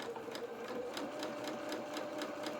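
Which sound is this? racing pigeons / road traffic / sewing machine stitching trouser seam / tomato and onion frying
sewing machine stitching trouser seam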